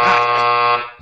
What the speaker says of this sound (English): I'll blow the buzzer on that one. Like the long buzzer.